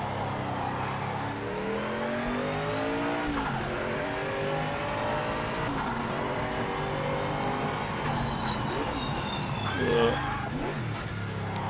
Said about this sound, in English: That tyre squealing sound is going to get boring very quickly.